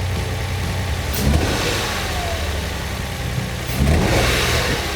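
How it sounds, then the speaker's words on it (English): An engine-swapped Nissan 350Z idles with a rough, loud drone, and the throttle is blipped twice into short revs about two and a half seconds apart. "Let's give it a bit of throttle."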